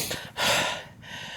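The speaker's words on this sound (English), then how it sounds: "Probably just heavy breathing. That's a steep climb out of Alberton." Heavy breaths from a hiker after a short, steep climb out of Alberton on the Cumbria Way: a sharp, loud close inhale, then a long airy exhale, with no talking.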